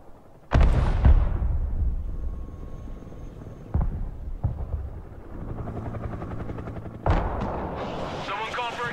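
Artillery shells land in the military strategy game Broken Arrow as heavy booming blasts. Several separate impacts each trail into a long rumbling tail, with quieter battlefield noise filling the gaps between them.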